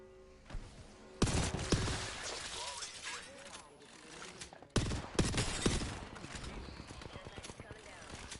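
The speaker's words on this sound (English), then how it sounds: "Opening fire. Under fire." Gunfire in a PS5 shooter game, two rough bursts of rapid shots with crashing impacts, heard under constant in-game voice chatter and combat noise.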